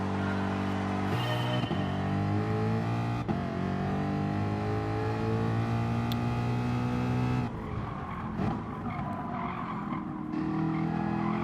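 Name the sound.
race cars starting a race in video game GT Sport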